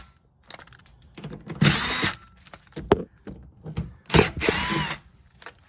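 A power tool removes the bumper bolts on an Audi with the 3.0 TFSI engine, firing in two loud, sustained whirring bursts between shorter blips and clicks, close by.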